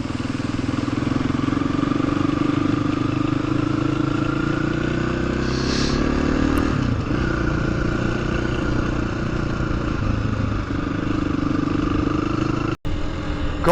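A motorcycle rides a green lane in Oxfordshire and Wiltshire, its engine droning steadily and close with a rising and falling pitch, plus some rattle and brief knocks near the end.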